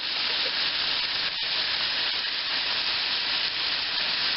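Fish sauce hitting hot drunken noodles in a pan, a steady loud hiss of sizzling that holds evenly throughout with a brief crackle near the middle.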